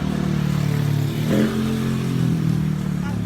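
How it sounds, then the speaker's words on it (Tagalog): A motorcycle engine drones nearby on a street in Lapu-Lapu City, Philippines, and briefly revs up before settling back to a steady hum, no voices. "ingay ng motor"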